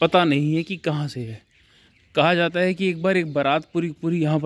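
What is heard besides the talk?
No everyday noises stand out.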